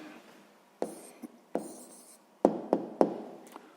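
A pen writing an answer by hand on paper in a short burst of strokes and taps, close and fairly quiet, with no talking.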